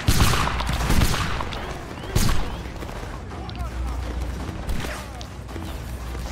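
Musket volleys and scattered gunfire crackle in a Napoleonic Wars battle game, with dense bursts of shots rising and fading over a rumbling battlefield while voices talk over it.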